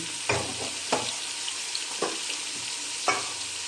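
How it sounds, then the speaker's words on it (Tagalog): Boiled beef goes into a pot of Filipino sinigang, giving a steady simmering hiss broken by a few soft splashing thuds as pieces drop in. "then lalagay na natin yung ating nilagang baka"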